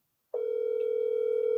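An outgoing telephone call rings on the line as a steady single-pitched tone, starting abruptly after a brief silence and holding loud and unbroken to the end.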